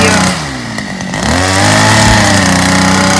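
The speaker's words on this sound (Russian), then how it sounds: "Тут вот я опробую газонокосилку." A petrol lawn mower's engine is tested close up, running loud with a rough drone that drops, then revs up and settles into a steady high roar.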